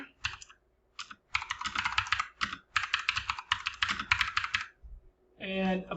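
Quick bursts of typing on a computer keyboard, close and clear, with clustered clicks separated by short pauses and a brief sound of something else at the end.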